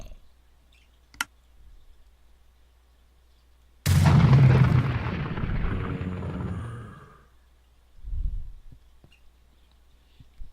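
A mod-added gun fires in Minecraft: a sharp early crack, then a loud, booming blast that rumbles and fades over a few seconds, and a shorter, duller thud near the end.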